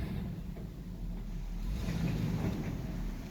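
An old pickup truck called Old Blue pulls away down the road, its low engine rumble fairly faint and steady, growing slightly louder midway before easing off, with no talking.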